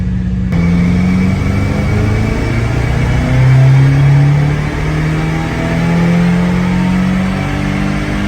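A Subaru WRX engine revs hard on an all-wheel-drive dyno, a loud, close, sustained drone whose pitch climbs and wavers through the pull with no talk over it.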